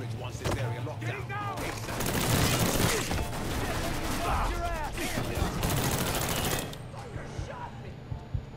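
Gunfire rattles through a Mafia III firefight, dense bursts and rapid shots with mechanical clatter, loud and sustained before easing off, while voices talk over the action.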